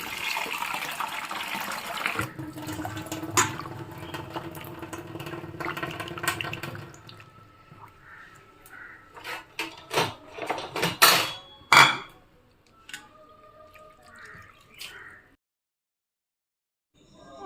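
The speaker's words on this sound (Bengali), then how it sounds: "এইবারে আমি ভালো করে জল দিয়ে চার পাঁচবার মতন ধুয়ে নেব যাতে কোনো স্টাচ না থাকে আলুর মধ্যে" Potatoes are rinsed in water inside a metal pot or bowl, with splashing and sloshing in the first half, then scattered clinks, knocks and drips as the pieces are handled and the water settles, close by.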